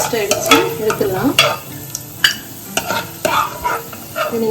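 Nuts roasting in ghee for carrot halwa: a low sizzle beneath repeated sharp scrapes and taps of a spoon against the pan, in an irregular stirring rhythm, heard close.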